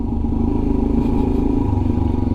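A 2021 Royal Enfield Himalayan BS4 motorcycle being ridden produces a loud, close, steady single-cylinder thump with a low pulsing drone and faint clatter, without speech.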